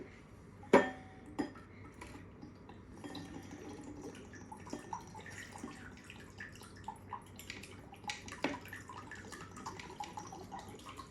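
A little water is poured for mixing paint colours, bringing light splashes, drips and clinks of a container that come in irregular bursts, with a sharper knock near the start.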